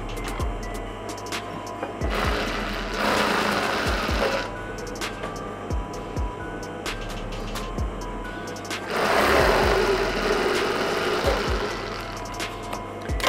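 Sewing machine stitching the lining of a princess-style blouse, a loud close mechanical whir running in bursts with short pauses and light clicks between runs.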